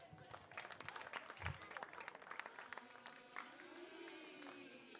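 Audience applause at the Moda sotto le Stelle fashion show at the Antiche Terme di Sardara, an outdoor evening event: a burst of many hands clapping that fades after a few seconds into background crowd sound and music, fairly faint.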